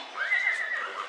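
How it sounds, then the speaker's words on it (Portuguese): A horse lets out a single loud, close whinny lasting about a second, rising and wavering, with no talk over it. "Tá arrumando o cavalo para Tef e para Anha montar."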